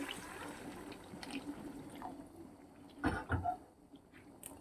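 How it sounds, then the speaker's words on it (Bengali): Hot water poured into a pot of simmering chicken curry, a soft gushing splash that swells briefly mid-way over quiet kitchen background. "এবার আমি গরম জল করে রেখেছিলাম দিয়ে দিচ্ছি গরম জলটা দিয়ে দিচ্ছি"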